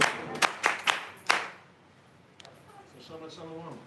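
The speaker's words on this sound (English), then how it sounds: "Give her a bit of clap and that." A handful of sharp hand claps ring out in quick succession at a Hebrew praise and worship gathering, then fade into near quiet with a faint voice following.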